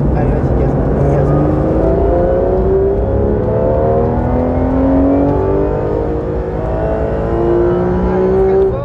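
A Porsche 911 GT3 RS accelerating hard on a race track, its engine note climbing steadily through the gears in rising howling sweeps, loud and close from inside the car, with a voice speaking over it.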